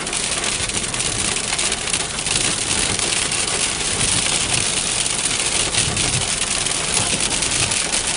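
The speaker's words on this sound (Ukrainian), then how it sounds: "Зараз в Чернівцях на Поповича такий, такий град, що просто жахливо." A hailstorm on a Chernivtsi street, with heavy hailstones hammering down in a constant loud roar and clatter on nearby cars and pavement, unbroken from start to finish and with nobody speaking.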